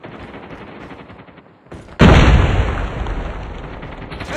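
A frag grenade explodes in the mobile shooter Call of Duty Mobile, a sudden loud blast with a long rumbling decay, preceded by steady rapid gunfire nearby.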